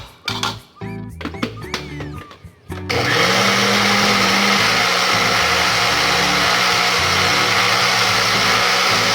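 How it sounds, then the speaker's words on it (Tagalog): A blender purees mango for mango pudding, switching on after a few seconds of kitchen clatter and then running loud and steady with a constant whirring roar to the end. "Blender natin yung ating mango"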